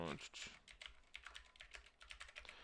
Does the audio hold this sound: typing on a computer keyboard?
yes